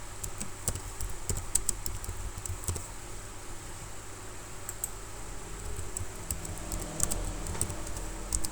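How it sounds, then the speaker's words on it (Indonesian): Keys clatter in an uneven run of soft clicks on a computer keyboard while a quiz command is entered, with a steady low hum of a fan or room noise underneath and no voices. "Kemudian perintahnya bisa diketik di sini."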